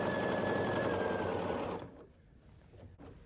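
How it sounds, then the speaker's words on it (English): A sewing machine stitches quilt seams on a Flying Geese quilt, a steady close rapid mechanical whir with a faint tone that runs for under two seconds and then stops, leaving quiet handling noise. "I will just match the next seam here and align everything up and then start sewing"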